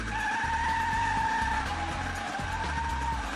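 Motorbike skidding in a TV series chase: a sustained high tire squeal wavering in pitch over a throaty, pulsing engine drone, loud and continuous throughout.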